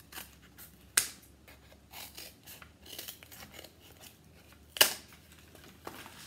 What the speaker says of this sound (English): I'll cut 2 pieces of cardboard